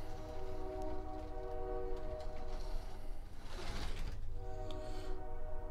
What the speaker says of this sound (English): you can hear the real train going through my town right now